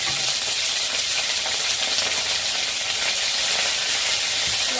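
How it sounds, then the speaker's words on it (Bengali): Whole crabs with their legs spread out fry in a pan of hot oil, giving a steady, loud, close sizzle and crackle that continues without a break and with no voices. "ঠিক আছে, আমি এগুলো ভাজছি।"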